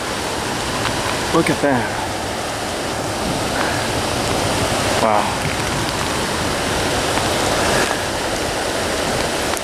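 A creek flows past with a steady, broadband rush of water as a continuous outdoor wash, while a person speaks briefly in amazement over it.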